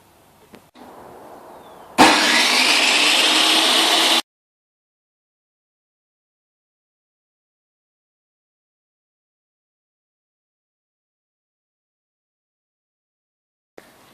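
A power saw rips a wooden board lengthwise to make it thinner, giving a loud, steady, bright roar that lasts about two seconds after a quieter lead-in, then cuts off abruptly into silence.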